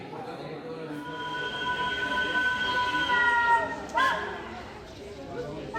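A train at the southernmost railway station in Argentina rumbles steadily with long, tonal wheel squeals rising and fading and a brief clank near the end, while people talk under it.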